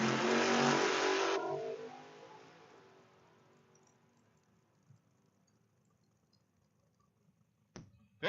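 Drag racing cars in an ET bracket race at Redding Motorsports Park, a loud roaring launch that fades away down the strip into near silence, then a sudden burst of engine noise returns at the end.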